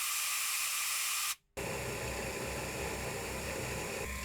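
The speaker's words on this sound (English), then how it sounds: "The compressed air test shows success." Compressed air blasting through the oil feed holes of a mini CNC lathe slide makes a loud, steady broadband hiss, cut by a brief gap before the rush resumes and holds to the end.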